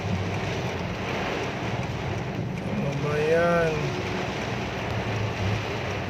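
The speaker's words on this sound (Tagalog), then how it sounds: "Sobrang lakas ng ulan" Very heavy rain pours down as a steady, dense hiss and roar that fills the whole stretch, while a person speaks briefly over it.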